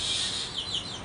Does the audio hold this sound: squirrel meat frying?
no